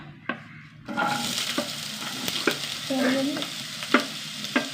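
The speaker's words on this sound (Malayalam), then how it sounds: "കുറച്ച് വെളിച്ചെണ്ണ ഒഴിച്ചു കൊടുക്കുക ചൂടാവട്ടെ ചൂടാവട്ടെ നമ്മൾ ഉള്ളി ഇട്ട് കൊടുക്കാട്ടാ" Small onions drop into hot coconut oil in a pan and start sizzling steadily, joined by a few sharp clinks and scrapes of a stirring utensil, close and fairly quiet with no speech.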